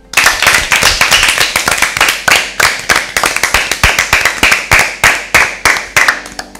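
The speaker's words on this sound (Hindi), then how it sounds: "अपने लिए भरपूर तालियां बजाएं।" Teams at an Easter Bible quiz show clap for themselves in a loud, close burst of many hands, rapid and uneven at first and then thinning into slower individual claps.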